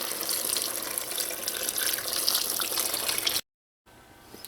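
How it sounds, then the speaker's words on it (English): Water poured into a pot of lentils and smoked turkey bones, a steady close gushing stream that cuts off abruptly, followed by a softer trickle. "I'm going to add some water to this,"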